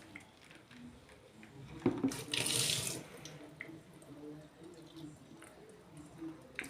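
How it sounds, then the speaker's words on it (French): Laundry is rinsed under a running tap in a sink, with a loud burst of gushing water partway through before it eases to softer trickles and handling noises. "Alors, je vais le rincer."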